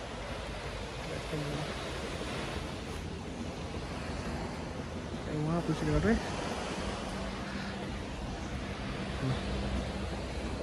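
Sea waves on the Tarragona seaside make a steady, broadband wash of surf that runs the whole time, with a voice talking over it.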